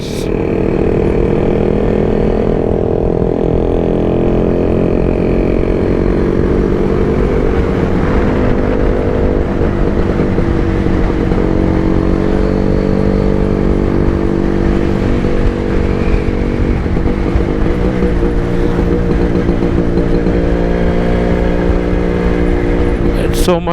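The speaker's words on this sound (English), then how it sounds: "Check these motorcycles." Two-stroke Yezdi and Jawa motorcycle engines running together, a loud, steady buzzing drone with dense harmonic layers lasting throughout, heard up close with no clear talk over it.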